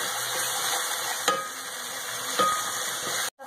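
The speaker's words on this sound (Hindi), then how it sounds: "अदरक लहसुन को भी हम अच्छा सा फ्राई कर" Ginger and garlic frying in a pot while cooking sour spinach: a continuous bright sizzle with a couple of stirring scrapes, close and fairly loud, cutting out briefly near the end.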